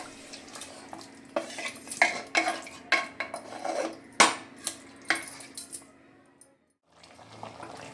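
Mutton with water, cooked with new potatoes, is stirred in a metal pot: a close run of spoon clanks and scrapes over a faint liquid slosh, pausing briefly before the stirring resumes.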